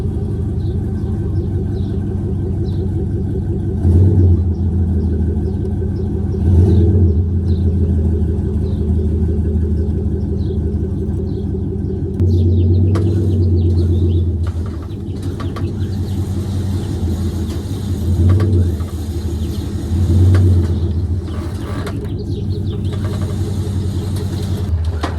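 A Monte Carlo SS engine rumbles low and steady close by as the car is driven off a trailer, the deep idle swelling briefly at times while birds chirp faintly in the background.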